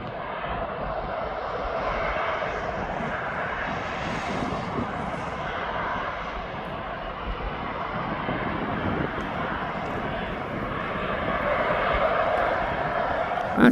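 A fixed-wing aircraft on the ground at East Midlands Airport, taxiing toward runway 9 before a flight to Birmingham, gives a steady broadband engine roar that holds at a fairly constant level and swells slightly toward the end.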